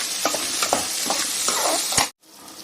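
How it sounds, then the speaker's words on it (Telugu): Onions frying and being stirred in a hot pan, a steady close sizzle with scraping strokes of a spoon, then a sudden drop to quiet near the end. "ఆనియన్స్ వేగినాయండి"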